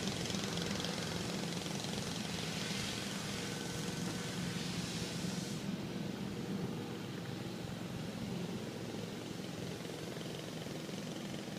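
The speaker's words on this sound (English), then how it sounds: "we're going to start it up and listen to the motor" A 2005 International Eagle 9900i Super B spec truck engine runs at a steady idle, a continuous broadband rumble that stays loud and even throughout, with a slight drop in upper hiss about halfway.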